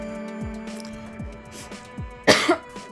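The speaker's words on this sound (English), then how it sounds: "I cannot stop coughing" A single harsh cough burst from a person, loud and close, rising above quiet background game sound during a stream of the game Virche Evermore.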